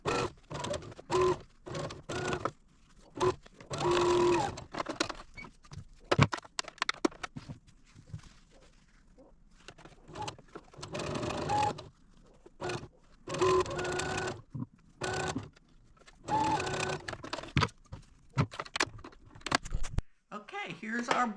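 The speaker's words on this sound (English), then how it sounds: "So let's take this to the machine and sew our last 2" A sewing machine stitches quarter-inch seams on a quilt block in close, rapid bursts of whirring that start and stop repeatedly, with a person talking between runs.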